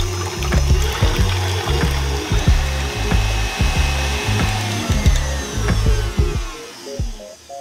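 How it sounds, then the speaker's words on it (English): An electric mixer whisks egg whites with cream of tartar to stiff peaks for an Italian sponge cake, giving a steady, loud, buzzing motor whir that runs continuously with no talking. "We're going to whisk these egg whites to stiff peaks."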